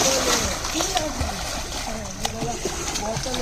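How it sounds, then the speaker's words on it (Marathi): A person jumps into open water, throwing up a run of close splashes and sloshing while someone talks over them. "मी पाण्याच्या आतमध्ये उडी मारतो."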